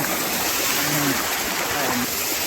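A small waterfall on a narrow jungle stream in Nepal sends out a continuous rushing, splashing wash of water close by. A voice speaks faintly underneath it.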